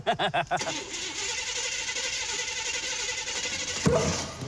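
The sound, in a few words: car engine starting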